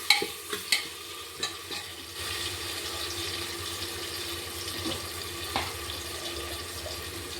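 Long-cut onion and tomato get stirred in a hot pan for a black-eyed pea masala, several quick scraping clicks at first, then a steady, moderately loud sizzle.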